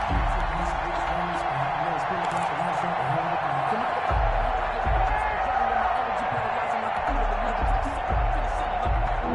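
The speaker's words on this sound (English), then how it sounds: "The crowd getting into it as we come up on a big 3rd down" A football stadium crowd roars in a steady, dense wash of cheering and noise ahead of a big third down in a Steelers vs Ravens game, with low rumbles and bursts rising from the mass of fans throughout.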